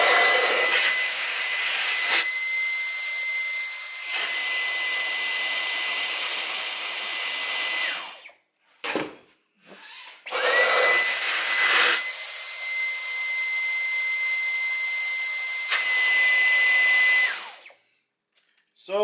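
A Dyson V11 Animal cordless vacuum cleaner running in boost mode, a loud steady whine with a high tonal hum, cut off briefly twice with short bumps in between before starting up and running loud again.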